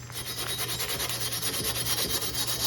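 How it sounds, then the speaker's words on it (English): Surface rust being rubbed off a machete blade: a close, rhythmic rasping scrape repeating in quick strokes, steady and fairly loud with no talking. "what I'm doing is just taking off some of that surface rust"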